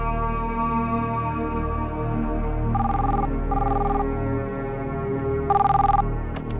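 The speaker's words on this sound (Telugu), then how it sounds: "డాక్టర్ రాజా, మీకు ఫోన్" A telephone rings repeatedly in an indoor scene of a Telugu action thriller film, loud electronic bell bursts in short regular pairs over a sustained musical background, with no speech.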